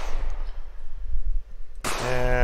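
Gunfire in an Unreal Engine 4 multiplayer shooter, a loud burst of shots cutting in sharply near the end with a ringing, tonal tail over a low, rumbling game background.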